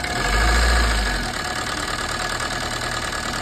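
A Maruti Suzuki Swift Dzire diesel car engine revs up briefly and drops back to a rough, uneven, misfiring idle, running close by with no talking.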